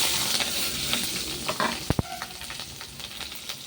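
Onion and green chillies fry in hot oil with cumin in a pan, a close, bright sizzle running throughout while a spatula stirs and gives a couple of sharp scrapes near the middle.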